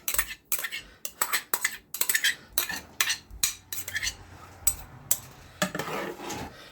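A spoon stirs turmeric, garlic and onion in a pot for Trinidadian-style dhal. Close, quick, irregular metallic scrapes and clinks against the pot come in bursts with short pauses, and no one speaks.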